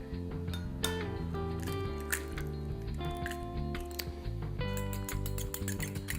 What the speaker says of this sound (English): We'll break an egg into it.